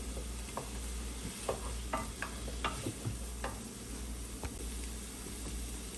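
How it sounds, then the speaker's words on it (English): Pumpkin stirred into a sizzling pot of food, with a steady frying hiss and repeated scraping stir strokes and small ticks, fairly quiet and with no talk. "Now I'm adding in my pumpkin."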